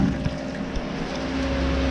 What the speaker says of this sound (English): I just got the pump on the ice box working, and that thing is blowing some water